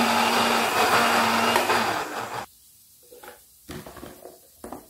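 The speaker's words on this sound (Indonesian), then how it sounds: "Ini mau aku blender terlebih dahulu kayak tadi sama aku haluskan." Electric blender grinding shallots, garlic, candlenuts and chilies into a spice paste, a loud steady whir for about two and a half seconds, then cut off, leaving faint clatter and small knocks.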